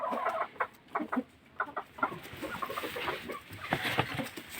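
Several laying hens cluck close by at their nests in a steady, overlapping chatter, with short busy calls and no talking.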